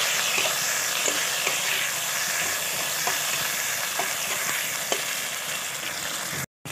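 Ginger garlic paste sizzles in a pan of fried onions with a loud, steady frying hiss, broken by a few faint taps of stirring and a brief cut near the end.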